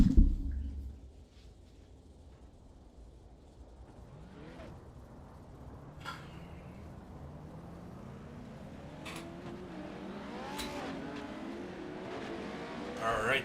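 Race cars pull out onto the dirt oval at Lernerville in a racing video game. A sharp thump opens, then engines rise in pitch as several cars accelerate, revving and building in loudness from moderate distance, with faint talk beneath.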